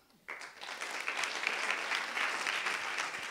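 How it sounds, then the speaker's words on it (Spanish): Audience at a medical seminar talk breaks into applause, starting abruptly and settling into a soft, even patter of clapping from a moderately distant crowd. "En los seminarios intentamos aplaudir sin ruido"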